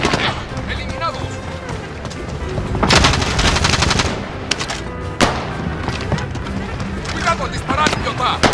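Video game gunfire in Warzone, dense bursts of automatic weapon fire and heavy impacts in a busy battle mix, with spoken voices and game chatter running throughout.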